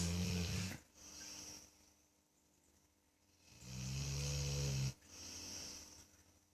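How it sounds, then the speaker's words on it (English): A dog snores very loudly in long, rasping, throaty cycles, two heavy snoring breaths with quieter wheezy inhales between them, close up. "Dogs aren't supposed to snore like that, surely."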